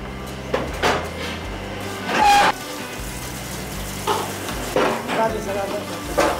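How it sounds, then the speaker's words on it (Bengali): Biryani ingredients stirred in a large pot at a Kolkata restaurant kitchen, heard as irregular scraping and clanking strokes over a low background hum, with a few louder bursts spaced through the stretch. "এবার খুব ভালো করে নেড়ে"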